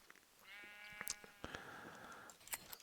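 Sheep in Minecraft give a couple of bleats, fairly quiet and close, with a few light clicks from play around them.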